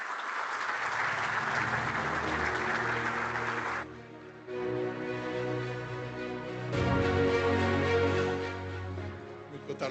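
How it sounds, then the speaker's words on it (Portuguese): Audience applause at a safety conference, a dense sustained clapping that fades briefly, then swells again before tapering, with some people speaking. "peço-vos um aplauso"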